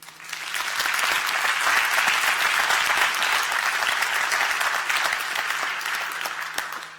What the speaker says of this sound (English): maybe that is worth a clap of hand.